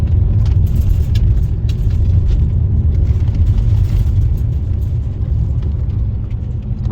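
An all-wheel-drive car travels over gravel service roads, with a loud, constant low rumble of engine and tyres and faint crunching and rattling throughout.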